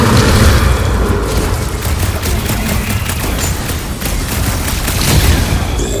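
In a Guardians of the Galaxy video game battle, a dense barrage of loud booms and bursts rumbles continuously, explosions overlapping with crackling impacts throughout.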